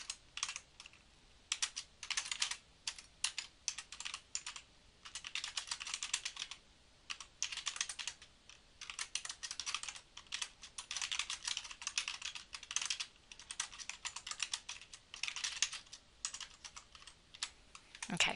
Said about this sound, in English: we're going to go ahead and type in Novak, Kevin.